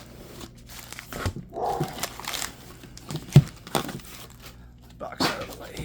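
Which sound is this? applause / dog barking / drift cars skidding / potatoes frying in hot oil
dog barking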